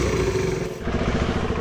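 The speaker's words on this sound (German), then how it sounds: "Okay, also der Roller läuft jetzt erstmal." Scooter engine idling steadily after a repair, a close mid-pitched motor hum with a slight clattery rattle throughout and a brief dip before it settles back in.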